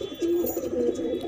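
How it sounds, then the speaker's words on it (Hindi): Soft, low pigeon cooing repeats steadily at close range, a murmuring warble with no talking over it. "सब बहुत ही प्यारे कबूतर हैं"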